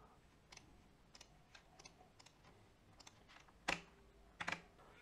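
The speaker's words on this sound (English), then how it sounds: "we'll type this in." Commands typed on a computer keyboard come through as sparse, faint clicks at close range, ending in two slightly louder clusters of keystrokes.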